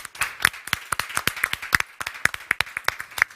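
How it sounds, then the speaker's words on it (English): An audience claps for keynote speakers and a technical crew, a brisk, uneven burst of individual handclaps that stays near and steady without building into a full roar. "Yes, let's applaud them."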